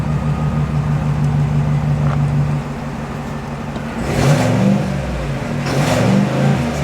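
The engine of a 2025 GMC Sierra Denali 1500 pickup in normal mode idles steadily, then gives two short revs that swell and fade back, heard up close with no talking.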